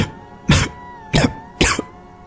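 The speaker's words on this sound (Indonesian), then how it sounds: "Suara batuk. Suara laki-laki itu tidak asing." Three separate harsh coughs from a man, spaced about half a second apart, close and fairly loud with quiet between them.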